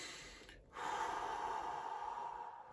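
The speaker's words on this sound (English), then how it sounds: "double inhale through the nose, long, slow exhale through the mouth" A person breathing during a yoga exercise takes a quick double sniff in through the nose, then lets out a long, slow, steady breath through the mouth. It is close and soft, with no talking.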